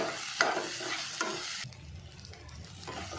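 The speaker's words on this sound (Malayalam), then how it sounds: "അതിൻ്റെ കൂടെ കുറച്ച് മഞ്ഞൾപ്പൊടി, കുറച്ച് മുളക് പൊടി ഇട്ട് വഴറ്റുക." Turmeric and chili powder sauté in a pan with a soft sizzle and a few scraping stirs, fairly quiet and close, with no talk.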